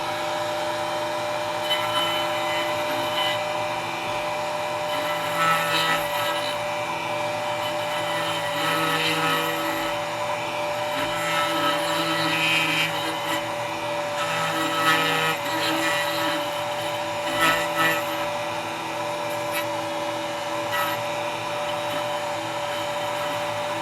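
A router fitted with an end mill cuts aluminum on a router table, giving a steady, loud, high whine with faint fluctuations as the bit chews through a pass, running continuously throughout.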